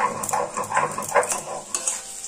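Potatoes frying in oil with stirring, a close sizzle broken by repeated scraping and clattering strokes over a couple of seconds.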